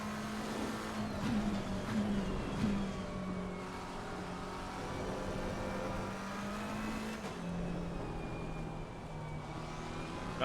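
A race car engine in Assetto Corsa Competizione at Spa holds a steady high-revving drone with a brief dip and rise, loud and continuous with no talking.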